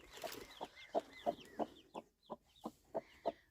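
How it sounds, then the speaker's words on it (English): A broody hen gives a steady run of low, evenly spaced clucks close by, while her newly hatched chicks peep high and thin in between. "our broody hen hatched out a couple of chicks"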